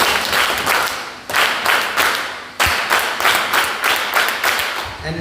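A seminar audience claps in a patterned group clap, several loud bursts of many hands striking together in a steady rhythm, with short pauses between the rounds of claps.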